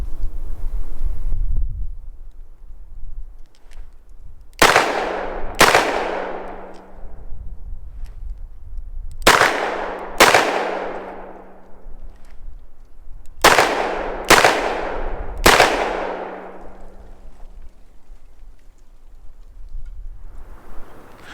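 A Magnaport 686 Plus revolver fires fast double taps outdoors, with several sharp, loud shots coming in close pairs, each followed by a ringing decay, and wind noise running under them.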